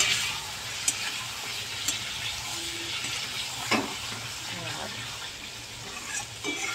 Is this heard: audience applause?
no